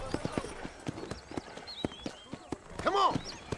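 Horse hooves clip-clop at a steady trotting rhythm in the video game Red Dead Redemption, close and distinct, with a short neigh near the end and someone talking over them.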